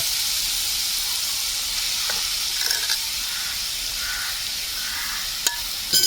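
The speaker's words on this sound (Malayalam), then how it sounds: "നമ്മൾ നേരത്തെ അണ്ടിപ്പരിപ്പും അതുപോലെ തന്നെ മുന്തിരിയൊക്കെ വറുത്തെടുത്ത ആ നെയ്യിലേക്ക് നമ്മളെ പീസാക്കി വെച്ചിട്ടുള്ള ക്യാരറ്റ് ചേർത്ത് കൊടുക്കുക" Carrot pieces sizzle and fry steadily in hot ghee, a continuous bright hiss with soft crackles and a few faint stirring clinks, heard alone at close range while preparing Kerala carrot payasam.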